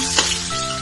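Garlic and onion frying in hot oil for menudo being stirred in the pan: a loud, continuous sizzle with a quick scraping stir near the start, no one speaking.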